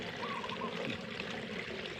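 Water mixed with wood ash is poured onto a pile outdoors, a steady splashing trickle heard close and fairly loud for about two seconds.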